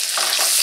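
Ground venison frying in a skillet for a hamburger casserole, a steady close hiss and sizzle with faint stirring scrapes, continuous and fairly loud, no voices.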